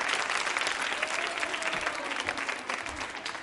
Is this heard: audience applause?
yes